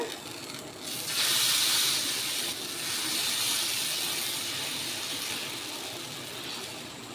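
Adai batter hits a hot pan with sesame oil and bursts into a loud, rushing hiss. The sizzle then settles into a steadier, slowly fading fry.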